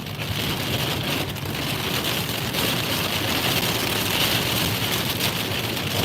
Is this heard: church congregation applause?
no